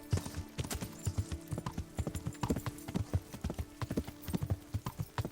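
Horse hooves clip-clopping in the video game Kingdom Come Deliverance, a steady walking rhythm of close, distinct hoofbeats over a low background hum, with a faint voice briefly present.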